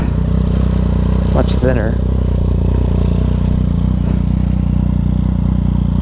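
A Yamaha FZ-09 street motorcycle idling with an Arrow exhaust and the dB killer removed, a loud steady deep rumble with a brief throttle blip, while someone talks over it.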